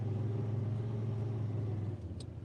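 A red Honda utility vehicle on a farm drives along with a steady low engine rumble, then eases off as it pulls up and slows near the end.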